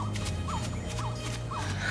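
Cartoon birds take flight in a rapid flurry of high chirps and fluttering over a steady low hum, with repeated rising calls at even intervals and no talking.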